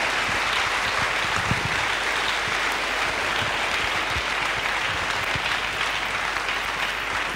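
A church congregation claps for Jesus during a bilingual French-English service, a dense, steady roar of many hands applauding continuously with no pauses, close and loud throughout.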